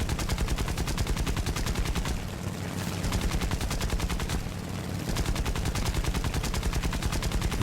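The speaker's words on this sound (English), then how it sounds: "I can't hurt them too badly with my single machine gun, but I am scoring hits" Single rear machine gun of a B5N2 bomber firing in War Thunder, a loud, steady rapid stream of shots that runs almost without break, dipping briefly twice as bursts pause.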